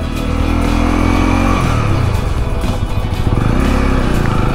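A Honda CL 250 Scrambler motorcycle engine while riding, loud and close, with a droning mid-pitched note whose revs climb and drop across the ride and with wind rush over it, and no voices.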